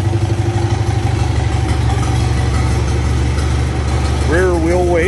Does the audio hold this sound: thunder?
no